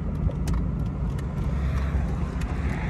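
A 1996 Ford Mustang GT convertible with its 4.6 liter V8 drives along, giving a steady low engine rumble with road noise and faint clicks, no talking.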